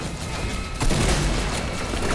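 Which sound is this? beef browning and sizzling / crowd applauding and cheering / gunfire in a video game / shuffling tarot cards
gunfire in a video game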